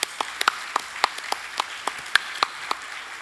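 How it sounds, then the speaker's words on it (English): Sparse, scattered hand claps from a small audience at a business talk, a dozen or so separate sharp claps spread unevenly over a few seconds against a quiet background. "that deserves a huge round of applause for Raquel."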